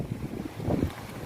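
Strong stormy wind rushes over open water during a fishing outing, a loud, low, buffeting roar with gusts swelling toward the middle, with no voices.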